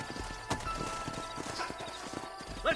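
Horses' hooves clip-clop in a quick, steady patter in the video game Red Dead Redemption, close and continuous over a low ambient backdrop, with a faint snort near the end.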